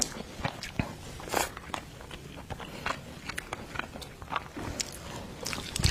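Close, quiet crunching and chewing of king crab meat, with irregular bites, shell cracks and soft scraping scattered over several seconds, no voices.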